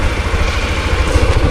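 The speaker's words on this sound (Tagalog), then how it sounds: "yung ating motor pala ay pinainit na po natin yung kanyang makina kanina" A warmed-up motorcycle engine idling close by, a steady low rapid thumping putter with even rhythm and no other sounds.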